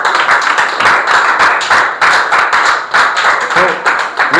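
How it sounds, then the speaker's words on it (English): Classmates in a grade 9 classroom clap loudly for a student after a presentation, uneven rapid hand claps close by and sustained throughout, with a brief voice near the end. "Give her a big round of applause."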